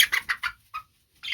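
Chickens and roosters clucking close by in a short burst of several quick calls, a pause, then another cluck.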